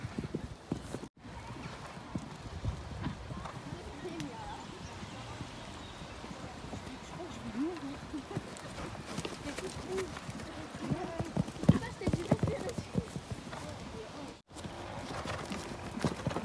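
A horse trots on a riding ground during a lesson, its hooves clip-clopping in an irregular run of moderate, fairly close beats, with an instructor's voice heard at times over the footfalls.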